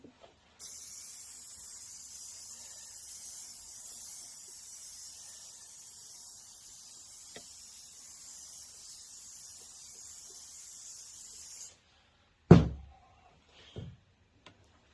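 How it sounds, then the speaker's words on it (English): A steady hiss of a spray bottle misting soapy water onto a beeswax foundation press, one long continuous spray, followed by a short clatter as it ends. "I spray it so it releases the wax"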